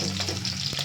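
Garlic and green chilies sizzle steadily in hot oil in a pan, a dense continuous fry with a faint stirring scrape, close and fairly loud throughout.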